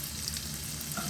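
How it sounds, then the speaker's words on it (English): Red chili sweats in hot olive oil, a brief, quiet, even sizzle heard up close with no voices. "add the red chili. Allow just sweat in the oil for a few seconds."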